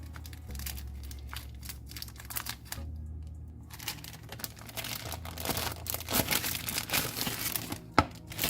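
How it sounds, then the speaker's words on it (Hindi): A plastic packet of spring roll sheets is cut and pulled open, giving close, continuous crinkling and rustling with a few sharper crackles and a snap near the end. "मैंने ये रोल की पट्टी का पैकेट लिया है, इसे हम काट के निकालेंगे"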